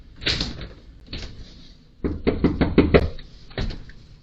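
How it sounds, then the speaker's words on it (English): A sheriff's deputy knocks on the front door of a home, two separate bursts of firm raps on wood, the second a quick run of five or six knocks, close and loud with no talk. "he's walking up to the home and he's knocking on the door."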